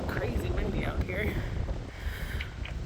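Heavy wind buffets the microphone in a constant low roar aboard a MacGregor 26M sailboat, with faint water and rigging sounds and voices partly audible underneath.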